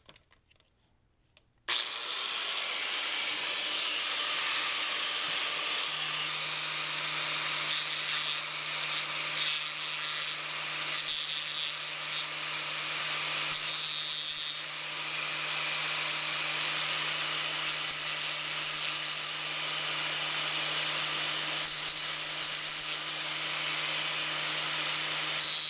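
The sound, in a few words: power tool bevelling a cut stud edge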